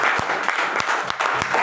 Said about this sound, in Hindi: एक बार जोरदार तालियां होनी चाहिए बेजुबान पशुओं के लिए